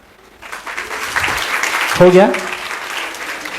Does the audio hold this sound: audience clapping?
yes